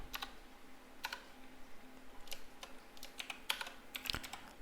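Keystrokes on a computer keyboard while code is typed, heard as short, sharp clicks in irregular bursts and single taps over a quiet room, close and moderately faint, with no talking.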